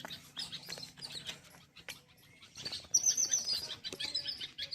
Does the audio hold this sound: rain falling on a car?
no